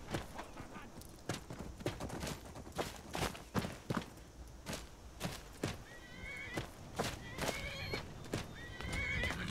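A horse whinnies repeatedly over steady clip-clop hoofbeats and thudding footsteps, with game-like ambience; the neighs grow more frequent toward the end.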